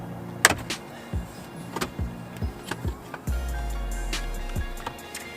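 Plastic trim around the hazard button panel of a 2018-2020 Subaru STi is pried loose, giving a series of sharp clicks and small snaps, with a low motor-like hum joining partway through.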